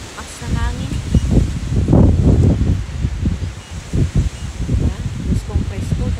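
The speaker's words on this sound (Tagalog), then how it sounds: "Lakas ng hangin." Strong gusts of wind sweep through leaves outdoors in Canada, a loud, close, surging rustle that rises and falls in waves, with a voice speaking briefly.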